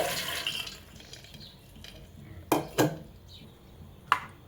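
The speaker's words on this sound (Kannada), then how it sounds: "ಕಾಳುಗಳನ್ನು ಹಾಕೋತಾ ಇದ್ದೀನಿ" Dried pulses tipped into a pressure cooker while making North Karnataka-style gatti soppu curry, giving a few sharp clinks and rattles against the metal pot over quiet room tone, with no talking.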